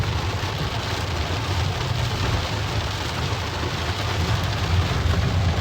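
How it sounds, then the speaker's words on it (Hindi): Heavy monsoon rain pours down steadily in Dehradun, India, a dense continuous roar of water with no talking. "देहरादून की बारिश दोस्तों"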